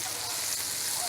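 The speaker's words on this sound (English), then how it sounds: "My butter is going in the pan, and it's going to sizzle a bit." Butter sizzles in a hot pan with a steady, close crackle that holds evenly throughout, ending in a brief brighter spit.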